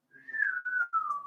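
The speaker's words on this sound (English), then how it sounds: "Can you stop whistling like an idiot?" A person whistles a single sustained tone that rises slightly, then slides gently downward with a brief break near the end, close and clear in a quiet room.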